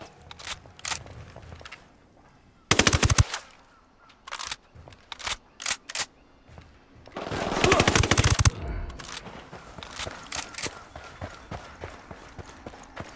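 Gunfire from Tom Clancy's Ghost Recon Wildlands video game crackles in scattered single shots, with two loud sustained automatic bursts standing out against quieter stretches.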